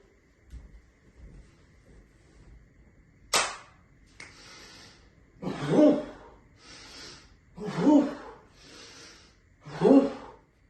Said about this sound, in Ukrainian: Переходимо до дихальної гімнастики. Управа дроворук.